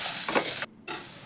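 Macaroni masala stirred in a pan for about a second, a steady close hiss and sizzle broken by a brief silent gap before the scraping resumes.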